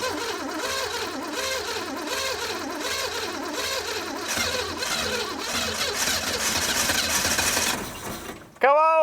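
An old Pontiac Phoenix, left unused for more than 20 years and set with heavy ignition advance, cranks in repeated rhythmic turnovers and then catches and runs rough and loud, ending abruptly with a brief tonal squeal.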